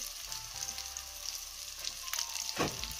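Curry leaves and chopped onions with a pinch of salt fry in oil in a pan for poha, a continuous close sizzle with a few sharper crackles and a soft scrape near the end, no talking.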